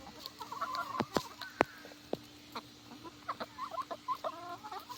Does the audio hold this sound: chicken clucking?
yes